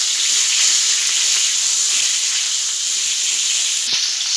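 Pointed gourd (potol) rubbed with salt and turmeric fries in hot oil, giving a loud, steady, close sizzling hiss with little variation and one brief dip near the end.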